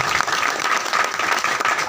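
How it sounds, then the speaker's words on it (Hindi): An audience at a business training and celebration event claps loudly to welcome a businessman, a continuous wash of applause filling the whole moment. "एक बार तालियों से स्वागत करेंगे।"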